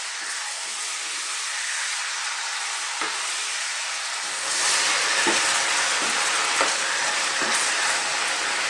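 Beef chunks frying over medium heat for a red wine stew, a continuous broad sizzle that swells louder midway, with a few soft knocks of stirring and no voices.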